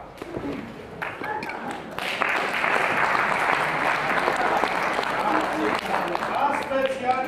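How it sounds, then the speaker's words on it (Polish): A theatre audience at a play premiere breaks into steady applause, quiet scattered claps at first, then a full, sustained round of clapping from a crowd nearby. "Brawa."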